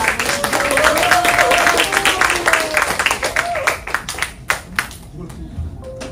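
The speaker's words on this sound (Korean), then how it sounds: "뜨거운 박수로 환영해 주시면 감사하겠습니다" Clapping from a lecture audience, a dense patter of hands that thins into scattered claps toward the end, with a voice over the start.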